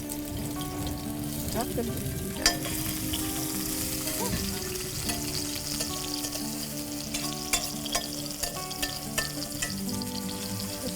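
Garlic frying in a pan for a curry, a steady close sizzle with occasional stirring clatter, while people talk briefly over it.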